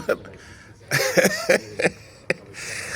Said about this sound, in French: Ouais, je tousse pas mal.